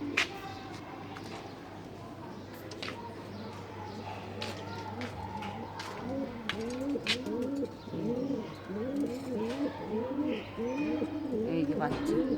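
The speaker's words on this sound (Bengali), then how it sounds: "এই কবুতরটা আজকে নতুন আছে," Pigeons coo repeatedly in rhythmic, overlapping phrases at a rooftop pigeon farm where doves are also kept, growing busier and louder toward the end, with a steady low hum and occasional sharp knocks in the background.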